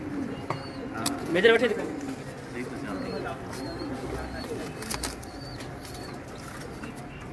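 Pigeons cooing softly in a loft, low murmuring calls with occasional wing flaps, faint under people talking nearby.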